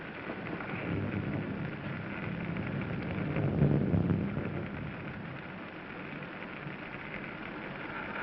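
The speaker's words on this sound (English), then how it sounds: "It's raining." A steady, dense wash of storm rain in a 1941 horror mystery film, with a low rumble of thunder swelling briefly midway before the downpour continues evenly.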